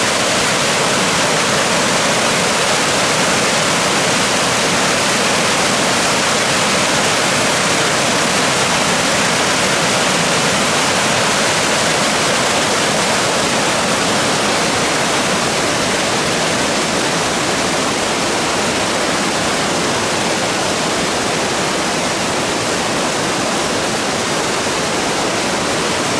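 A stream rushes down a wooded gorge in Central Appalachia toward the Mon River, producing a loud, steady broadband roar that holds unbroken for the whole stretch with no voices.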